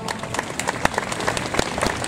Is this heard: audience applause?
yes